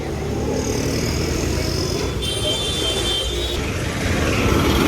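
Heavy road traffic during a Rapido bike taxi ride: a loud, continuous roar of engines and wind rushing by, with vehicles droning close around.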